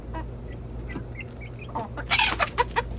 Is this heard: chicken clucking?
yes